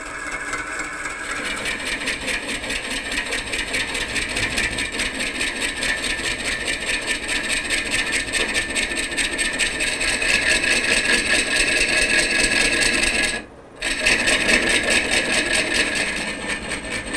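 A wood lathe spins a piece of crotch wood, giving a loud, steady mechanical drone with a low rumble underneath that holds for the whole stretch and drops out briefly near the end.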